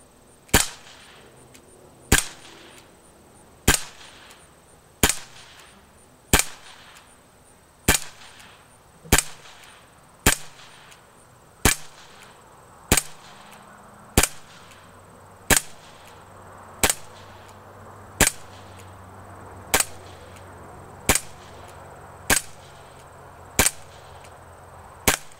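Umarex SA177 double-action BB pistol firing about twenty sharp, evenly spaced shots during accuracy testing, each a crisp close snap over quiet room tone with no talking.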